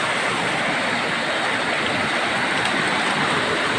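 Rushing water from a waterfall on a river, a steady, loud, broadband roar filling the whole stretch with no pauses or voices.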